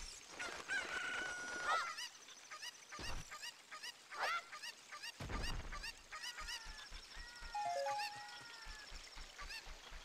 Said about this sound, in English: You're right there, chicken.